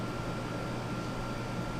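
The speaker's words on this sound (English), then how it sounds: "I don't know how loud that air conditioner is, but it's pretty loud here in the room." A room air conditioner runs with a steady, constant hum and whoosh, faint but unbroken, with no talking.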